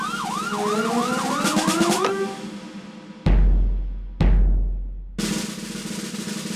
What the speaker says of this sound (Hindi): ये पुलिस की सायरन की आवाज है ना?